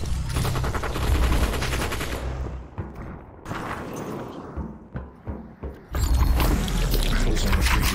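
Rifle gunfire in the VR battle royale game Population: ONE, dense rapid bursts of shots with heavy low thumps, pausing briefly mid-clip before a loud sustained volley resumes.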